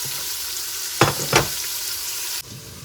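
Onions frying in a pan for mutton biryani, a steady close hiss of sizzling oil broken by two quick stirring scrapes, then dropping suddenly to a quieter sizzle.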